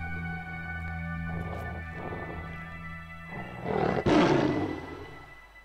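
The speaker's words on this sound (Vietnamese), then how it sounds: "À, nghe cái như là tiếng của ma sói nha." A deep, drawn-out werewolf growl and roar from outside a window in the game Children of Silentown, starting low and rough then swelling into a loud, close snarl near the end over a steady eerie ambient drone.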